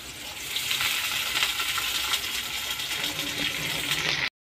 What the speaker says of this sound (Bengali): এখন এই তেলের মধ্যে পেঁয়াজটা দিচ্ছি।